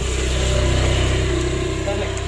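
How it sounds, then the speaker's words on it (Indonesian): A hard-starting engine with jelly-like sludged oil is cranked by its starter motor, giving a steady, close mechanical churning with a rapid regular pulse over a low hum. "Kita di starter ya, di start."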